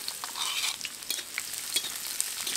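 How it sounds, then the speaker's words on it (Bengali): Chopped onions frying with whole spices like cardamom, cloves, cinnamon and cumin for chicken khichuri, a close crackling sizzle with quick bursts of stirring. "পেঁয়াজটা হালকা বাদামি রং ধরা পর্যন্ত ভেজে নেব।"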